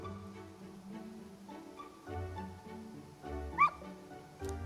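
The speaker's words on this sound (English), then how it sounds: "I took the dog out without anyone seeing and walked her around the capital." A dog in the video game Metaphor: ReFantazio gives soft whimpers and small yips at moderate distance, quiet against low game background sound.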